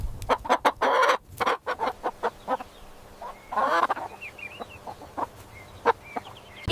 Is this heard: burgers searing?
no